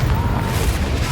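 Confringo fire spell explosion in Hogwarts Legacy, a brief loud rumbling boom with dense low-end roar filling the whole moment, no speech over it.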